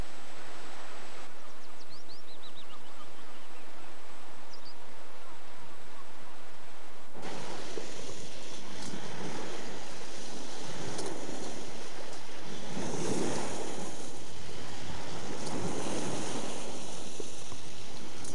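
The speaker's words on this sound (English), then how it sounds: "With over 20 knots of wind from the northeast, we enjoyed a fine sail towards the Nordfjord" Sailing boat under way at sea in a strong northeast wind of over 20 knots, heading towards a Norwegian fjord; a quiet, muffled start gives way to loud rushing wind and wash of waves against the hull, steady with surging gusts.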